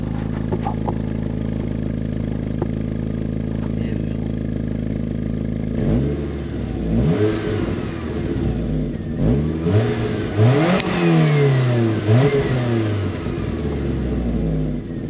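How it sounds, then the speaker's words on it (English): A Chevrolet Matiz with its exhaust unbolted from the manifold, running straight-pipe: a steady loud idle, then a series of sharp revs rising and falling from about six seconds on, close and with no talk over it. "Somebody just unbolted the exhaust from the exhaust manifold, and it sounds mint."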